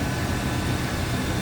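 A stock 1994 Chevrolet Silverado 1500 with a 305 V8 runs steadily with its hood open, a close, constant low engine drone and broadband hum with no talk.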